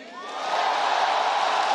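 Arena crowd roaring and cheering at the League of Legends Season 2 World Championship finals, a dense continuous wash of voices that swells over the first half-second and holds loud and steady.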